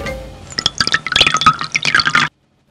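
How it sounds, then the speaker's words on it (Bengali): Cartoon-style pouring of fuel into a motorbike's tank, a close, busy run of bubbly liquid gurgles and drips lasting about two seconds before cutting off abruptly. "বাইকে তেল ভরছি।"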